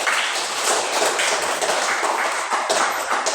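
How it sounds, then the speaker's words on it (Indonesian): A group of students claps hands together during a physical education lesson, a steady, dense patter of many close claps held at an even level throughout. "Kita tepuk tangan sekali lagi"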